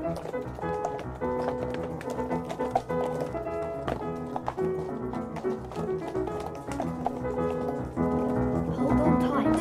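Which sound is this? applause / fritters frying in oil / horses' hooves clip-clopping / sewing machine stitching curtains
horses' hooves clip-clopping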